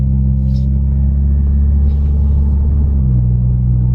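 Interior drone of a Saab 9-3 Arc fitted with a new exhaust system, a steady low rumble and engine hum heard from inside the cabin while driving, with a slight pitch shift near the end.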